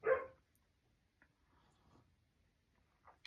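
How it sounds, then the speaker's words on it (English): A dog gives one sharp, fairly close bark at the start, then quiet with faint shuffling, and a brief higher yelp at the very end. "Might be noisy with the dogs today"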